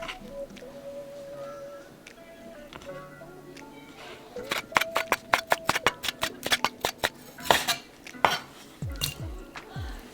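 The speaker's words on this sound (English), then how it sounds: "I like to cut my shrimp in pieces like this." Knife slicing through thawed shrimp on a board for shrimp and crab ceviche, a run of quick close clicks and taps against the surface after a quieter start, with faint handling and a few clattering knocks.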